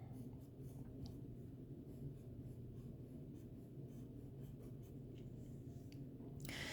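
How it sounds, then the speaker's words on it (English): A marker squeaks and rubs across a board while trees are drawn, a faint, continuous scratchy stroking with brief pauses and a louder scrape at the very end. "I'm going to draw a taller one over here"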